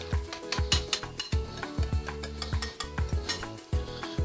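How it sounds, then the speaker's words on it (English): A spoon scrapes and clinks rhythmically against a bowl while Butterscotch Lush is mixed and the bowl is turned, giving repeated sharp clattering strokes close up with no talk. "Kind of turning the bowl here as I'm mixing it."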